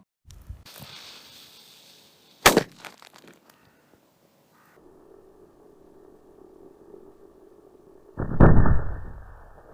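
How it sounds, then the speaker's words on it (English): A big firecracker blows apart a clay model of a Gazelle van: a sharp, loud crack near the start, then a quieter stretch and a second heavy, rumbling blast near the end, with no voices. "And we'll blow it up with a big firecracker."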